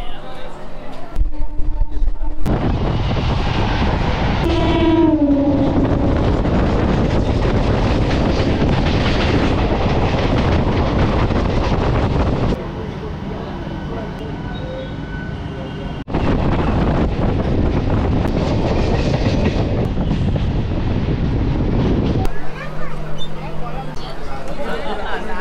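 A local train runs on the Howrah to Tarakeswar line in West Bengal, giving a steady loud rumble that drops and shifts between sections, with murmured voices and wind buffeting mixed in.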